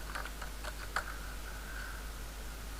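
Code being typed on a computer keyboard comes through as light, quick key clicks over a low steady hum, with a faint tone droning behind.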